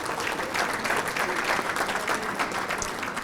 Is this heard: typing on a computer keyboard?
no